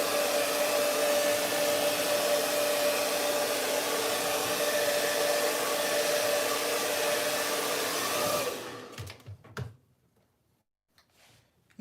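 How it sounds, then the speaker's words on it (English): A blow dryer roars steadily close by while drying a lace front wig, a constant whooshing drone with a faint whine that runs about eight seconds before switching off, followed by a few soft handling clicks. "You're gonna blow dry that back."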